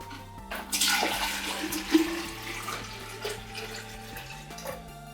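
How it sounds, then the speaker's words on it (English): Water pouring steadily into a Takeya cold brew coffee maker with a hollow, filling sound and a low hum underneath, continuing throughout at moderate volume. "We're gonna just go and pour the water right here"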